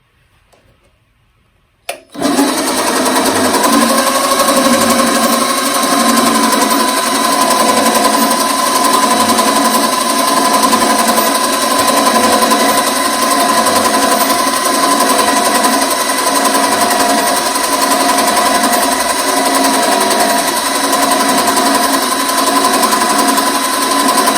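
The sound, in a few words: Vevor mini lathe machining a bicycle kickstand rod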